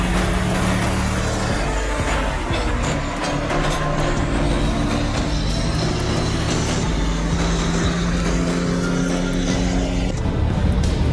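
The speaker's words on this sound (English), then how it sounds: "The heavy-duty red truck, powerful like a modern-day warrior, slowly makes its way along the rugged gravel road." A heavy-duty red truck hauling a storage tank grinds along a rugged gravel road, its deep, steady engine drone loud and continuous with rumbling low end and occasional higher mechanical hiss throughout.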